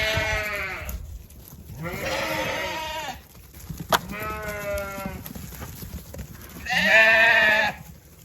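Sheep bleat loudly in a farm alleyway with several long, harmonic calls at close range. One near, strident bleat stands out at the end, with quieter bleats between and no talking.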